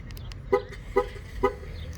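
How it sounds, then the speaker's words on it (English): Three short electronic chirps from a 2016 Cadillac XTS confirming the lock, spaced about half a second apart, fairly close, over a quiet background hum. "you're going to push the lock button twice so you hear the car beep"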